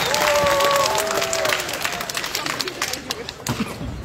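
Audience applause at a cosplay contest during a fantasy convention in Gliwice: a loud, dense wash of clapping that gradually thins and fades over a few seconds, with voices and chatter mixed in.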